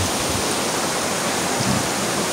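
River water flowing at New Bataan, Davao de Oro, a dense, steady rushing wash heard close and continuous, with no voices over it.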